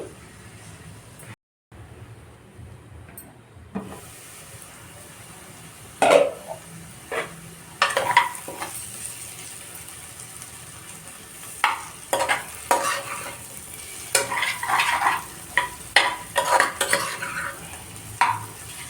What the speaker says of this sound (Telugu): ఇలా మొత్తం కలిసేలాగా కలిపేసేసుకొని ప్లేట్ పెట్టుకోవాలి